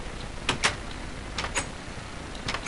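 A door opening and closing in the Minecraft video game, several short sharp clicks and clacks in quick pairs spread over a few seconds, moderately loud with no talk.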